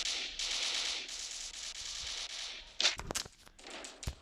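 Gunfire in the mobile shooter game Standoff: a stretch of rapid automatic shots, then a few sharp louder bursts near the end, with no talk.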